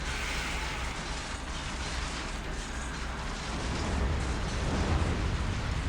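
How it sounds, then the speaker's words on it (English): Catapults launch a fire volley during a battle in the video game Kingdom Maker, heard as a continuous, dense rumbling roar of booms and bursts with no speech. "I got a little bit of a fire volley off on my catapults"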